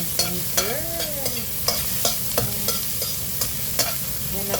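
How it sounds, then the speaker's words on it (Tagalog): Ginger fries in a pan with a steady sizzle while a utensil scrapes and taps against the metal in a loose repeating rhythm, heard up close and with no talking. "Umpisahan na po natin lutuin yung ating ginger."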